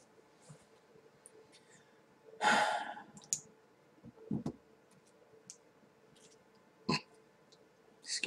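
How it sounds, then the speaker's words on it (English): A single short human burp, heard close and fairly loud against a quiet room, followed by a few scattered faint clicks and breaths. "I spooked my kitten by burping."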